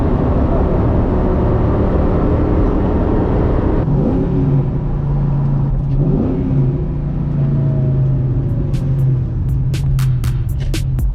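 A Ford Edge Mustang pulls hard through the mid-range in fourth gear, its engine note rising steadily over loud road and wind noise inside the cabin, with a few faint clicks near the end.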